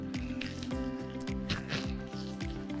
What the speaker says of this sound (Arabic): هعصرها بس من المية اللي فيها كده اهي